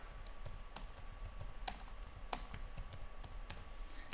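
Typing on a computer keyboard, with irregular quick keystroke clicks, close and fairly quiet, over a low background hum.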